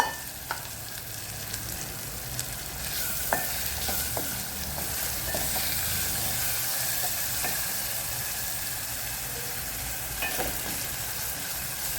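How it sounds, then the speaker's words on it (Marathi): Tomato masala with salt being sautéed in oil until the oil separates, for a green pigeon pea curry: a steady, moderate sizzle with intermittent spatula scrapes and taps on the pan, close, with no one speaking. "तेल सुटेपर्यंत आपण परतून घेणार आहे"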